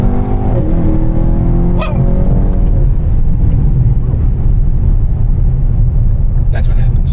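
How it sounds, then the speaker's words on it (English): A RENNtech-tuned 2018 Mercedes E63s wagon engine revving loudly as it accelerates through gears shifted by hand, a deep continuous rumble with rising pitch sweeps, close and loud, with a brief exclaiming voice. "Just drop it in the manual here, grab a few gears, and here's what happens."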